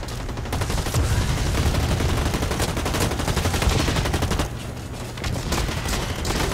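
Sustained automatic gunfire in the shooter game Blacklight, a loud rapid stream of shots lasting several seconds, briefly thinning before resuming.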